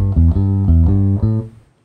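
Bass guitar answering with a short swung blues shuffle phrase in A on root, fifth, minor seventh and octave, several warm low plucked notes in a loping rhythm that fade out at the end, heard alone.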